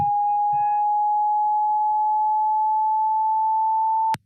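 A steady, fairly high pure tone holds for about four seconds at an even loudness, then cuts off abruptly.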